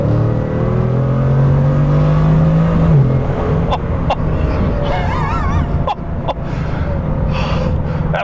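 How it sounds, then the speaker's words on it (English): A Bugatti Chiron engine revs up and down with short throttle taps, a loud close rising roar that climbs then drops back to a rumbling idle, punctuated by sharp blips. "even just tapping the throttle, you can hear the engine start to do its thing"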